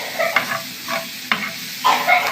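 Pre-fried shrimp go into hot oil in a pan, giving a close, loud crackling sizzle that comes in several short bursts as they are stirred, with no voices.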